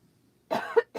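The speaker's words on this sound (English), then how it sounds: "I don't know where the cough came from." A single person coughs nearby, a short rough burst followed by a second brief cough in an otherwise quiet room.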